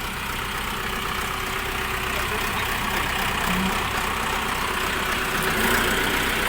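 Shifeng 404 four-cylinder four-wheel-drive mini tractor idling: a steady, even diesel drone with a constant low rumble, heard continuously and fairly close with no talk over it.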